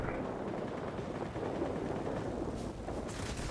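Rapid, dense 23mm cannon fire from a La-11 fighter in the World of Warplanes game, one of three cannons firing, sounds as a loud continuous rattling roar that never lets up and carries on through the whole stretch.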